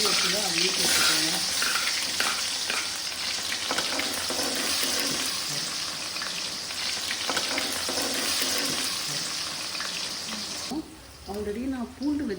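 Mustard seeds and small shallots fry in hot oil with a continuous crackling sizzle, close and fairly loud, while someone talks over it.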